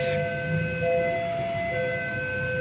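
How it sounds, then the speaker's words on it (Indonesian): A train approaches the Simpang Joglo level crossing, with a sustained warning tone sounding over a low rumble at moderate distance. Several steady tonal lines hold through the moment. "Kebetulan akan ada kereta melintas."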